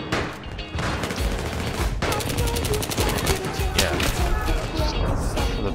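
Suppressed weapon fire in the video game Battlefield 3: rapid, muffled bursts of shots pile up into a dense, steady barrage, with fast clattering volleys most prominent in the second half and no clear pause throughout.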